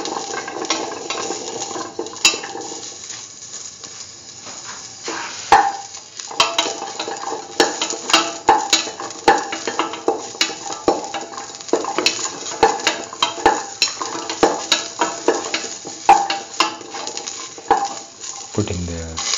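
Curried green tomato sautéed and stirred in a pan, with steady close scraping and clinking of a spoon against the pan over a low sizzle, carrying on throughout.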